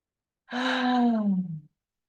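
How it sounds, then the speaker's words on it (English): A single long, deep breath drawn in and let out, close and soft, lasting about a second with no talk. "Deep breaths all the way in and all the way out."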